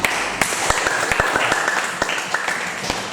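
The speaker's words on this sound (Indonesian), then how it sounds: "Ya, tepuk tangan untuk kalian semuanya." Students in a classroom clap together, a loose group applause with sharp individual claps standing out from a steady patter, fairly close, with a faint voice underneath.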